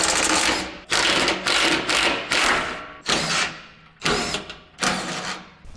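A ratchet spins bolts off the chamber of a Lanair waste oil heater in about eight quick, repeated bursts of clicking, each starting sharp and fading before a short pause, close and fairly loud.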